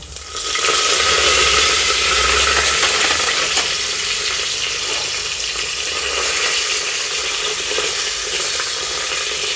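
Ginger, garlic and curry leaves fry in hot oil in a pan for moong dal khichdi, a loud, steady sizzle that surges up within the first second and continues without break, with occasional stirring scrapes.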